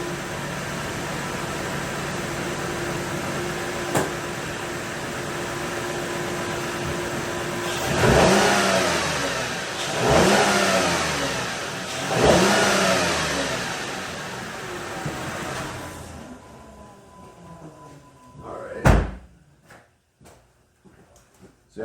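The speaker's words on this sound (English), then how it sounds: "let me give it a rev first while it's still recording" Car engine revving, an idle hum rising into three distinct surges of revs, then dropping away before the engine is shut off.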